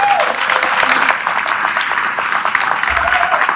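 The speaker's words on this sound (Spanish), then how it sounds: "Vamos a dar un aplauso a los papás." A church audience applauds fathers during a Spanish-language sermon, loud close clapping from many people that holds steady for a few seconds.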